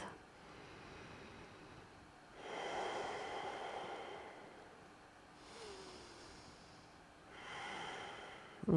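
A yoga instructor breathes slowly during a hip stretch, with soft airy inhales and exhales rising and falling in three gentle waves, close and quiet with no talking.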